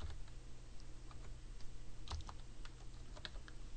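Soft, quick typing on a computer keyboard, irregular clicks of keys close to the microphone over a low steady hum, with no talking.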